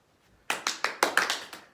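Hand claps during a PE ball drill of throwing up, clapping and catching: seven sharp, quick claps in a fast run, close and clear in a quiet room.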